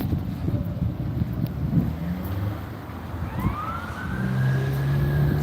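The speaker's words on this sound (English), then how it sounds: "So I hear more sirens." Emergency vehicle sirens sound in a small Ozarks town, distant and partly masked by background rumble at first, then a rising wail emerges and holds steadier toward the end.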